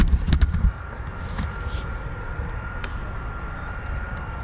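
A C-146 military aircraft approaching at an air force base, heard as a steady, moderate engine drone with a faint whine held throughout, after a brief burst of louder rumble at the start.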